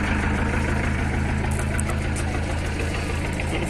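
A Mercedes-Benz 608 truck with a new engine idles close by, a steady, even diesel rumble with a faint rhythmic knock that holds unchanged throughout, with no talking.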